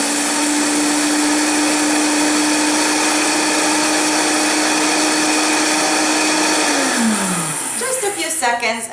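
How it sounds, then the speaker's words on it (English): Close, loud blender grinding millet into flour with a steady high motor roar that slows and winds down near the end, leaving a rattling spin-down. "So we're going to put it here in the blender."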